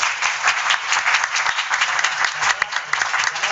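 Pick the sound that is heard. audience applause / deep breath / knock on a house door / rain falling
audience applause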